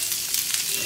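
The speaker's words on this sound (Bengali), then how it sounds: "গোটা জিরে, ফোড়ন দিলাম। একটু ভালো করে ভেজে নেব।" Whole cumin seeds sizzling in hot oil for tempering, a bright continuous crackling fry with small popping bursts, close and steady throughout.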